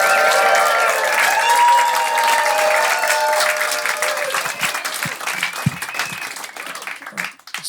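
A large audience applauds and cheers loudly, with whoops rising above dense clapping that slowly thins out toward the end.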